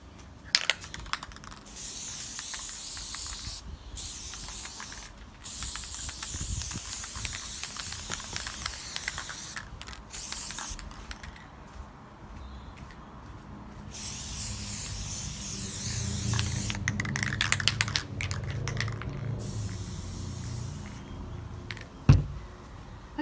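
Aerosol can spraying a light dusting coat of Plasti Dip rubber coating onto a hockey helmet: long steady hissing bursts with brief pauses between passes, close and fairly loud.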